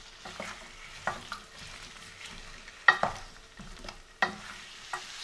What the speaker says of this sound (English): layer all of these potatoes with that butter and some oil so that it's slightly fried